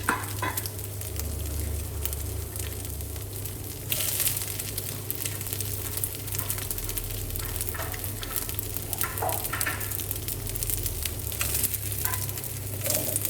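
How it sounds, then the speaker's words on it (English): Egg, onion, garlic, carrot and cabbage stir-fried in a pan for glass noodle stir-fry, a steady close sizzle with repeated scraping and tossing strokes throughout, no talking. "Add onion and garlic and fry until the egg is firm"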